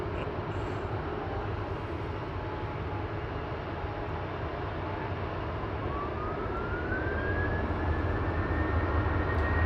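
A TUI airliner bound for Geneva waits at Manchester Airport before take-off, its engines giving a steady, broad roar heard from a distance that swells slightly toward the end, with a faint rising whine above it.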